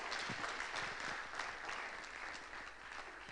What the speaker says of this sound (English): Can we keep clapping till they get here, please?